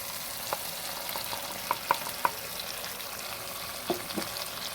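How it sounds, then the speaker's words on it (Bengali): Prawn malai curry fries steadily in a pan as coconut paste goes in, a soft continuous sizzle broken by a few sharp spoon clinks and stirring scrapes. "আমি যে নারকেল পেস্ট করে রেখেছিলাম সেটা দিয়ে দেবো।"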